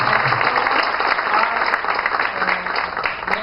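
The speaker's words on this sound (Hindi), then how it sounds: "इनकी मैं ताली बजा के सबकी तरफ से" Sustained applause from a meeting audience, honouring a team's discipline in the market, fills the room steadily and loudly from start to finish, dense clapping with no pauses.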